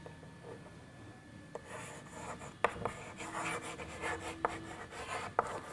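Soft scratchy strokes of someone writing the number 87 during a Class III subtraction lesson, a close rubbing sound with a few small taps, and no talking.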